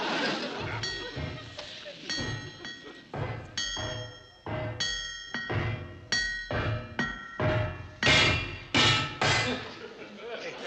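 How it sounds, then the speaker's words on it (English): Repeated ringing hammer blows on metal, clanging irregularly then settling into a steady rhythm, with bright metallic overtones and some voices underneath. "You keep on with the hammer and I'll add some extras."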